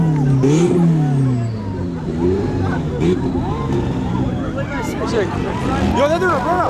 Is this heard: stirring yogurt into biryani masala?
no